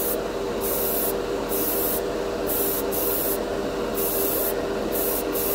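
Dspiae color shift metallic paint is sprayed from a can in a steady hiss, broken by several short bursts with brief pauses between them, close and fairly loud with no talking.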